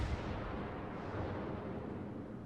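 Big naval guns of a Pensacola cruiser fire in World of Warships, a deep booming blast that fades into a low rumbling roll, muffled and fairly quiet.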